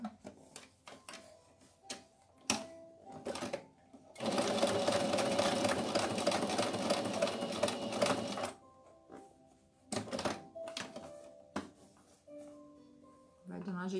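Sewing machine runs in one sustained, rapid stitching burst of about four seconds while sewing rag doll clothes, close and loud, with someone talking before and after amid clicks and handling sounds.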